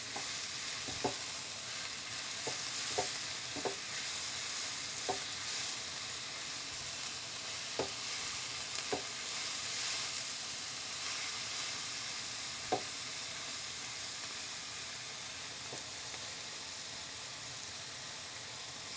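Curry leaves frying in a biryani pot with ginger, garlic and green chili: a steady soft sizzle with occasional small pops and clicks of stirring, faint and continuous.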